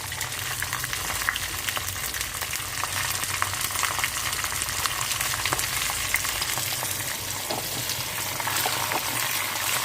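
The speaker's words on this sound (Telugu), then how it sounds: "పోపులు వేగుతున్నాయండి." Tempering spices, including cumin seeds, sizzle in hot oil for a mango and coconut chutney, giving a dense, continuous close crackle with scattered pops throughout and no talking.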